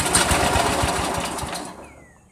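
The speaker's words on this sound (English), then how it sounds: "if she'll start up without the choke and run" An old riding lawn mower engine cranks and sputters in a rapid, close mechanical chatter for about a second and a half, then cuts out and falls quiet.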